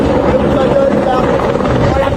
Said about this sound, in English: A firefighting helicopter hovers low over the lake to scoop up water.